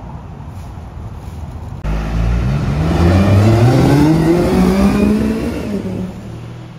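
A yellow Lamborghini Aventador SVJ engine revving on a Paris street, starting from a distant idle then bursting into a loud, rising roar with climbing pitch sweeps before easing back down.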